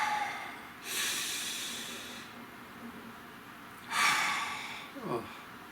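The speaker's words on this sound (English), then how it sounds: "So take a nice deep breath." Two long, audible inhalations through the nose and mouth, each a breathy rush followed by a slower release, with a short sniff-like gasp near the end, close to the microphone.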